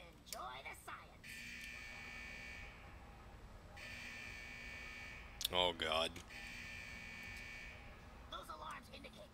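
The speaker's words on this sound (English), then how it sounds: "Those alarms indicate that we're encountering some minor technical difficulties with the fusion press unit." Fusion press alarms in World of Warcraft buzz in long steady blasts, three sustained tones separated by short gaps, fairly faint, with a brief spoken exclamation in between.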